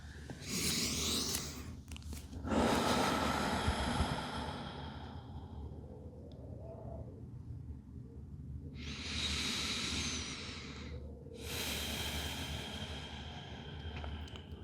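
Slow, deep breaths during child's pose in a yoga class come as a few long, soft airy inhales and exhales, close and quiet, separated by calm pauses.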